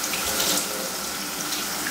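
Tap water runs steadily into a sink during washing in a home kitchen, a continuous broadband hiss at moderate level with no voices over it.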